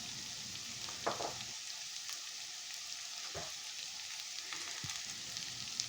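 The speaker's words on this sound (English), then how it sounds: "onion chopped half cup, saute for 2 minutes, bitter gourd 250 grams" Onion and bitter gourd sauteing in a pan, a steady hiss of sizzling oil with a few louder crackles and stirring scrapes. No voices are heard.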